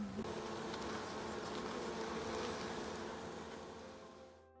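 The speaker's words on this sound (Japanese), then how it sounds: "野良蜜蜂の巣箱の中に収めています" Stray honeybees swarm at a wooden hive in October, producing a steady, dense buzzing drone that fills the scene closely and continuously before cutting off abruptly.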